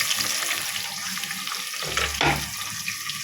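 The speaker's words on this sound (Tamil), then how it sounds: "வெங்காயம் நல்லா வதங்கிருச்சு" A steady, close sizzle of onions frying in a pan, with a brief stirring clatter partway through and no voices.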